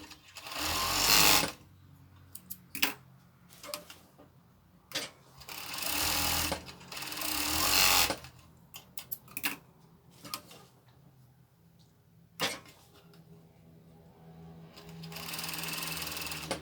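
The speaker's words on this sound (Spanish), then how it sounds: "Y de esa misma forma vamos a coser el otro lateral." A sewing machine stitches the side seam of a top in short bursts, loud runs of rapid whirring separated by quiet pauses filled with small clicks and handling noises, close up and without talk.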